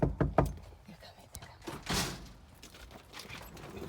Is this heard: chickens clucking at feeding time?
no